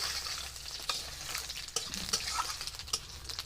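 Panch phoron spices sputter in hot oil for Bengali khichuri, a steady close sizzle broken by sharp crackles and pops as the pan is stirred.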